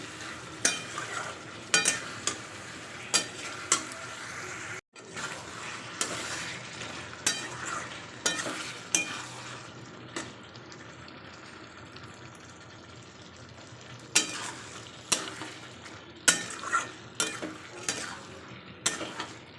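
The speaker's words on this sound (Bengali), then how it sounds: "অনেকক্ষণ কষিয়ে নিয়েছি" Chicken gizzards, liver and necks sauté in a pan, with a constant sizzling hiss broken by repeated stirring scrapes and knocks of a utensil against the metal, close by and fairly steady.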